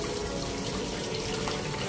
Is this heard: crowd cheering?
no